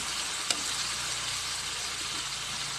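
Steady, dense sizzling of banana slices frying in hot oil for chips, continuous and close, with a faint clink early on.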